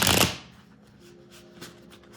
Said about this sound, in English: we've shuffled enough